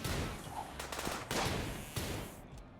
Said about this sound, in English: now I want you throwing your grenades right about there